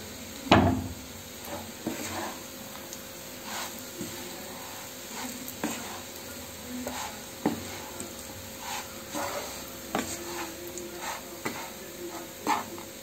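Dried, pounded meat cooks slowly in coconut oil over a low flame, giving a soft, steady sizzle with occasional scraping stirs and light knocks against the pan.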